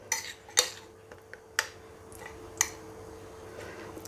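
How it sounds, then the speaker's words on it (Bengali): Gravy being mixed into a yogurt pointed gourd (doi potol) dish in a microwave-cooking kitchen: faint, sparse spoon taps and clinks against the bowl roughly once a second, with quiet soft stirring between them. "দিয়ে আমি এখানে বাইরে থেকে খুব ভালো করে আমাদেরকে মিশিয়ে নিতে হবে"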